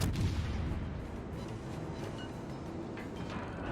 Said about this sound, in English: whammo, we get him with our second volley of torps there for our second kill of the game